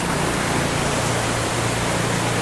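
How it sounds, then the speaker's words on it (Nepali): Heavy monsoon rain pours down in Kalimpong as a dense, unbroken hiss, loud and steady throughout, with a low rushing undertone like running water. "हेभी परिरहेछ पानी चाहिँ आम्बो हेर्नु नि क्या डरलाग्दो परिरहेछ पानी"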